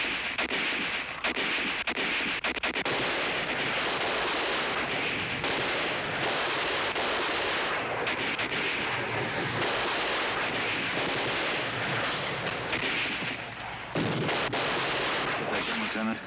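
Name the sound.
artillery fire in 1965 TV war drama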